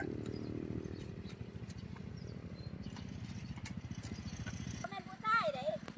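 Small walk-behind tractor plowing a rice field: a rapid, steady single-cylinder engine putter chugging close by, with a voice speaking over it toward the end.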